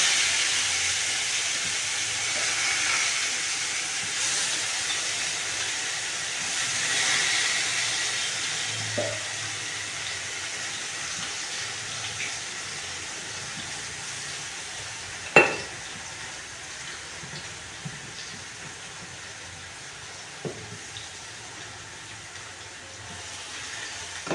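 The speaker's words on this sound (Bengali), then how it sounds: "ওই তেলের মধ্যে ডিম ভাজা হয়ে গেছে ওই তেলের মধ্যে পেস্টটা দিয়ে দেবো" A ginger, onion and garlic paste sizzles in hot oil left over from frying eggs. The result is a continuous soft hiss with a few sharp metallic clinks from utensils scattered across it. No speech is heard.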